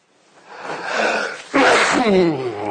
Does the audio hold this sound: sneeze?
yes